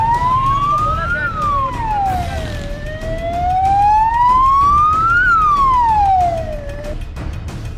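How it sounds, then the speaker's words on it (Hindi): An ambulance siren wails loudly and close by, its pitch rising and falling in two slow sweeping cycles over a steady low traffic rumble. "एम्बुलेंस के ड्राइवर जो होते हैं वो शौकिया सायरन बजाते हैं"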